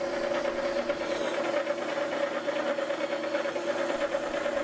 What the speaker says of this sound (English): This isn't a fast way to grind knives, but it does work.